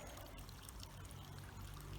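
Household grey water pours steadily from a 50mm PVC pipe into a garden hole, a continuous, faint trickling wash with no voices over it.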